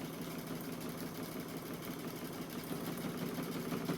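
A home sewing machine stitching a bride's garter bag, running in a steady continuous mechanical whir with a fast rapid needle rhythm, moderately loud and close, with no voices.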